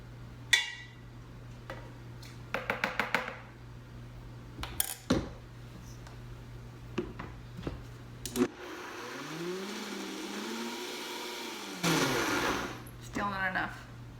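A blender churning thick cream and milk into butter, its motor whining in bursts that stop and start, with clinks of utensils and a spoon stirring in between, under talk.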